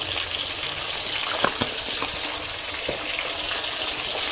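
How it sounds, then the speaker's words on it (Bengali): Potatoes fry in hot oil for a chicken curry, a close steady sizzle with a few sharp clinks and scrapes of stirring, no voices. "দিয়ে আমি আলুটাকে ভেজে নেব"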